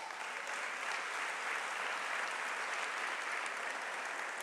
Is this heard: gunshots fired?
no